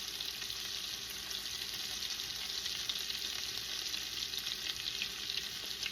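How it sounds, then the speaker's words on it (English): Steady, loud sizzling of meatballs searing in a hot pan, a continuous crackling hiss with no voices. "So we're almost done with searing our meatballs."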